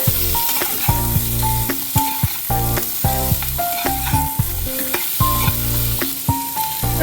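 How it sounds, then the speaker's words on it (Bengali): Chopped vegetables fry in hot oil tempered with cumin seeds, giving a steady, close sizzle broken by repeated stirring scrapes, with tonal background music running underneath throughout. "এবার সবজিগুলি দিয়ে দিচ্ছি এখন সবজিগুলোকে হালকা একটু ফ্রাই করে নেব"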